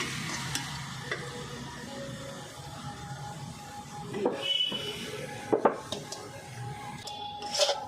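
A cooked coconut and jaggery mixture for coconut naru is stirred and turned off the heat to cool, producing soft, close scraping and a few sharper knocks of the utensil against the pan over a quiet background.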